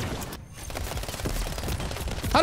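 A ray gun in Modern Warfare 3 multiplayer fires in rapid, loud repeated bursts, a dense rattling volley heard up close with no talk.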